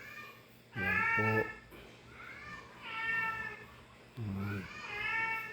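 A cat meows several times close by, drawn-out plaintive calls in three loud bursts with softer cries between, heard in a kitchen during cooking.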